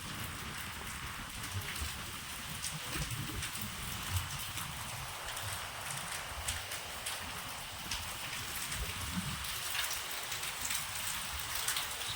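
Steady rain pours down on open ground, a dense even hiss of drops with soft splashing and pattering underneath, continuous and fairly close, no voices.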